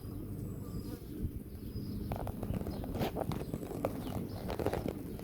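Honeybees in an opened hive during a spring inspection drone in a steady close buzz, with scattered louder wingbeats passing near.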